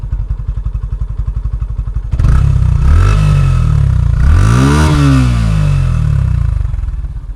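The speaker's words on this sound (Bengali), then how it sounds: "এই হলো আমার বাইকের স্টক এক্সজস্টের সিম্পল মডিফায়ার সাউন্ড।" A Yamaha FZS V2 motorcycle with a modified stock exhaust idles with a rapid, thumping pulse, then is revved hard twice. Each time the engine pitch sweeps up and falls back, loud and close.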